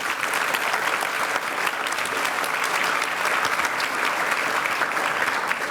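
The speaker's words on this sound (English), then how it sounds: "so let's give him a round of applause" Audience applause for a volunteer photographer at a school Super Scholars recognition event, a steady, dense clapping from a roomful of people that holds evenly for several seconds.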